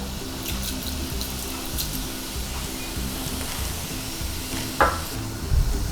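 Cumin seeds hit hot oil in a pan for a Maharashtrian spring onion dish, giving a steady, close broadband sizzle that holds throughout with a brief louder crackle near the end.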